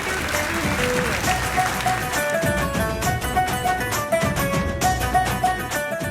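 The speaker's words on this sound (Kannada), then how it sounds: "ಬರ್ಲಿ ಜೋರ ಚಪ್ಪಾಳೆ ದಿವ್ಯ ಅವ್ರಿಗೂ." Applause for Divya at a Siri Super Mom television show, heard under a backing music track with a steady rhythmic beat, the clapping continuous throughout.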